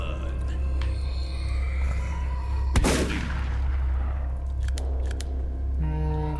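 A single sharp shotgun blast from the video game Jazon and the Dead cracks loud and close midway, then decays, with faint game tones and clicks around it.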